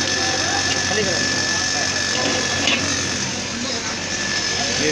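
A Swaraj 717 tractor with a single-cylinder, water-cooled engine idles in a steady, close, continuous drone, with talk over it.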